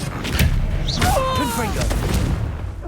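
In the Hogwarts Legacy video game, a Confringo spell blast goes off as a deep, booming explosion under fast spell-casting shouts and whooshing combat effects.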